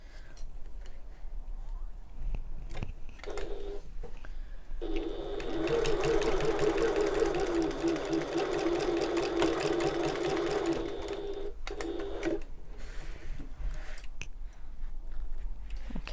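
A domestic sewing machine stitches the short ends of a fabric bag exterior together, running in a steady close whirring burst in the middle, with quieter handling and brief starts and stops around it and no talk.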